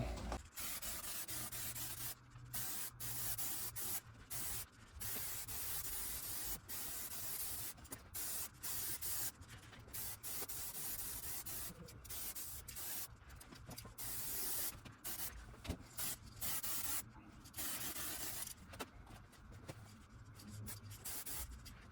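Spray gun laying 2K clear coat onto a Monster Sport body kit panel for a Suzuki Swift ZC31S, a close steady hiss in long bursts broken by short pauses as the trigger is released, no talk.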